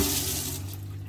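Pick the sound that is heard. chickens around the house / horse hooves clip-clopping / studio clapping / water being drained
water being drained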